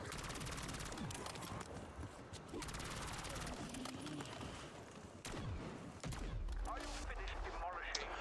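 Sustained automatic rifle fire from the Kilo assault rifle in Call of Duty, a loud dense stream of rapid shots running almost continuously with brief gaps and a sharp burst near the end, layered over game sound.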